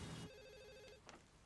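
Telephone ringing in a single brief electronic trill, faint and alone with no talk over it.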